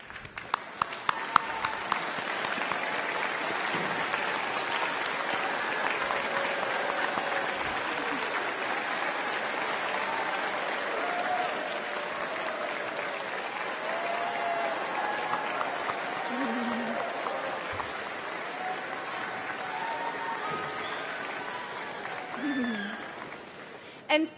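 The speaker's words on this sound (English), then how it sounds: "we're going to clap for you because you are a reason they are here." Sustained applause at a college commencement ceremony as the crowd honors parents and supporters, a long steady roar of many hands clapping that persists throughout, with some voices and cheers mixed in.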